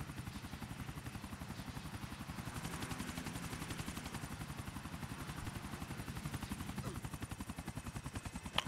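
A helicopter's rapid rotor thumping in the game Grand Theft Auto: The Ballad of Gay Tony chops steadily and loudly throughout, with no voices.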